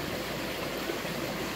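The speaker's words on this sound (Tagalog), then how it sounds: "Ito po ay nagagaling sa Mount Banahaw na tubig na tumatagos dito sa kabayanan ng Tayabas." The Ayaas River stream, flowing down from Mt. Banahaw through Tayabas in Quezon Province, Philippines, makes a steady, even rushing of water close by with no other sounds.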